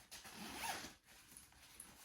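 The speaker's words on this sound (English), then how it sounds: "I'm gonna pull out the extender zipper" A packing cube's extender zipper is pulled open in two quiet, raspy runs, a longer one and then a shorter one with a brief pause between, close by and with no voices.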